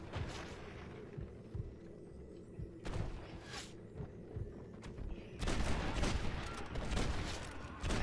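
Gunfire in an ambush in the Xbox 360 game Red Dead Redemption: distant shots over a steady low background, then a dense, louder burst of rapid shots near the end. No one speaks.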